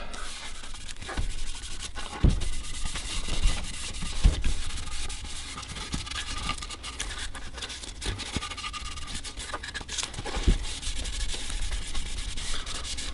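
Steady close rubbing and scratchy sanding-like friction as black stain is worked into a lacewood guitar body by hand, continuous with a few sharper scrapes, no talking.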